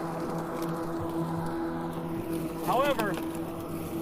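A GreenWorks Twin Force electric lawn mower runs with a steady motor hum and whir throughout, moderately loud and close, while someone speaks briefly over it near the end.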